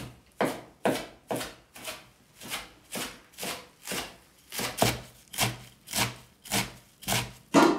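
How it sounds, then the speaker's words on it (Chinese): Washed wild greens being chopped on a cutting board with a knife, a steady run of about fifteen close, even chops in a regular rhythm, no talking. "先切碎。"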